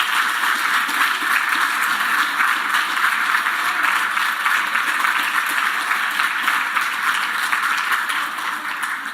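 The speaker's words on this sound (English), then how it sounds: "Give them a big round of applause." A large audience at a household workers of the year awards ceremony gives a loud, sustained round of applause for previous winners, a thick, even roar of clapping lasting about nine seconds and easing slightly at the end.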